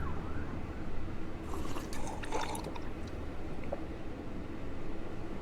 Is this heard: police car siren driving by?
yes